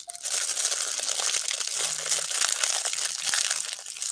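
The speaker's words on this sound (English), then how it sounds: "So like that's when people eat and they just crumple up stuff." A food wrapper being crumpled up close as an ASMR-style demonstration, giving continuous loud crinkling and crunching for several seconds with no talking.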